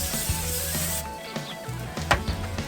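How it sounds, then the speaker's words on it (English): A quick spray hisses onto a hot barbecue grill while cleaning, a faint burst of broadband hiss in the first second followed by soft sizzling and light scraping. "Going to give it a quick spray."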